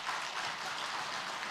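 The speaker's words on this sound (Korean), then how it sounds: "다시 한번 박수합니다." A church congregation applauds, a dense, even wash of many hands clapping that holds steady for a brief moment with no speech.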